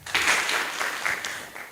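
Audience applause at a Kapropita Ward MCA candidates' debate, a dense steady patter of many hands clapping that holds for just under two seconds, moderately loud and without speech over it.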